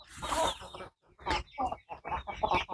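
Breeding hens and roosters cluck in a farmyard, a run of several close, fairly loud bursts of clucking with a short gap between them and no talk.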